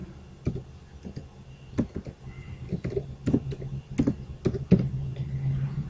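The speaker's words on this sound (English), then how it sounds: "Now here what you have to do is just type one command" Irregular clicking keystrokes on a computer keyboard as a command is typed into a command prompt, close and moderately soft, with a low hum underneath.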